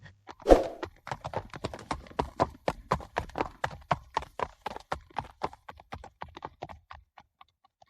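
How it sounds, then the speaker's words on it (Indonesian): Rhythmic horse hooves clip-clopping at a steady trot as a prince and Snow White ride through a forest, crisp and fairly close, with one louder thump near the start and the beats thinning out toward the end. "Pangeran dan Putri Salju menaiki kudanya dan berkuda melalui hutan menuju istananya."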